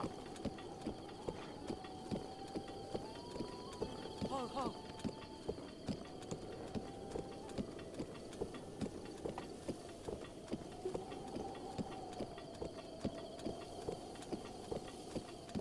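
Horse hooves clip-clop at a steady trotting rhythm through a Legend of Zelda: Breath of the Wild ride, moderately loud and continuous over game music, with someone talking now and then.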